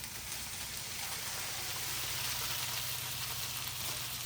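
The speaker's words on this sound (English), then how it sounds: "We're going to start frying." Vegetables fry in hot bacon grease in a skillet, giving a steady, close, broadband sizzle that holds even throughout with no talking.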